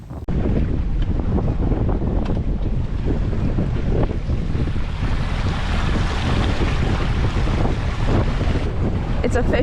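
Wind buffets the microphone on a fishing boat out at sea off Islamorada in the Florida Keys, a constant rough roar mixed with the wash of waves and hull noise, loud and unbroken with no one speaking.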